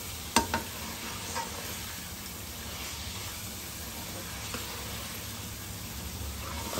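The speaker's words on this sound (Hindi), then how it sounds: "ऑयल में फ्राई करते हुए हिलाते रहेंगे।" Mutton liver frying in oil over low flame while being stirred: a steady soft sizzle with occasional sharp utensil taps and scrapes, close and fairly quiet.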